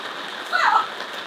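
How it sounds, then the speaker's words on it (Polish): Light rain pattering steadily in a garden where cocktail tomato plants grow, a soft broadband hiss with a slightly louder burst of drops midway, close and continuous. "Ale fajny deszczyk."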